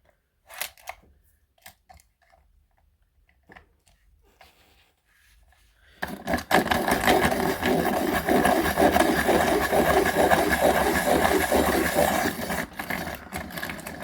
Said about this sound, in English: I keep forgetting on this sharpener I don't need to reverse the cranking to back it out